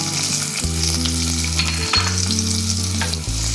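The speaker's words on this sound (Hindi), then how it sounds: "अब हम प्याज को फ्राई करेंगे" Chopped onion with cumin and green chili fries in a pan with a loud, continuous sizzle close by, while a low steady hum runs beneath and no one speaks.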